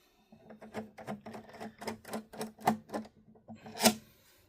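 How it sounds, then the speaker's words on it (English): Screws being taken out of a late-2012 27-inch iMac (A1419), a steady run of close, faint scraping and clicking turns from a screwdriver, ending in a louder click. "Let's go ahead and get all these screws out."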